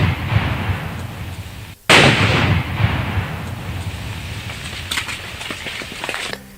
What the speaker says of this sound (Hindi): एक बार फिर वो विस्फोट की आवाज हम आपको सुनवाते हैं